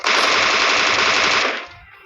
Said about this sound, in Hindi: पीछे से फायरिंग आ रही थी